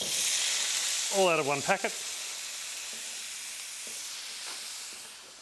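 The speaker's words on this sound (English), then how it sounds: "A little bit more oil in the wok, and then Chang stir-fry vegetables with bok choy" Bok choy and mixed vegetables stir-fried in oil in a wok, giving a steady, loud sizzling hiss throughout, with a brief voice speaking over it near the start.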